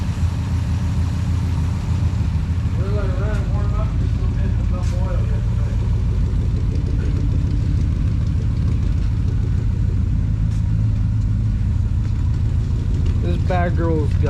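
A Binder C112 truck's V8, fitted with a rebuilt Holley two-barrel carburetor and true dual glass pack exhaust, idles with a deep, steady, continuous rumble while warming up, with brief speech over it.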